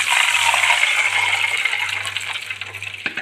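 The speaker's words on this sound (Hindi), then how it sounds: "जितना हमारा चावल है उसके हिसाब से मैंने इसमें पानी डाला है" Water poured into a cooking pot of browned onions and fenugreek seeds for fenugreek khichri with rice: a steady, close splashing gush lasting about three seconds, with a few faint clinks near the end and no voices.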